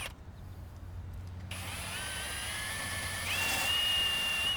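A power drill fitted with a sanding disc grinds against a powder-coated Hiker trailer chassis, giving a steady close whine that runs throughout, with a sharp rising pitch near the end.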